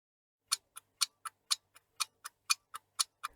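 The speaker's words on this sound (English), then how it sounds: "it's the sound of clock hands." Ticking hands of a clock give a dozen crisp, evenly spaced ticks about four per second, close and clean against a silent background.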